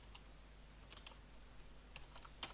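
Quiet, close keyboard typing on a computer, a scattered run of soft key clicks with irregular pauses and one slightly louder tap near the end, no voices.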